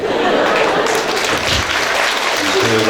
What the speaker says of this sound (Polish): Brawa dla Pani Danusi, Pani Danuta Gąsiewska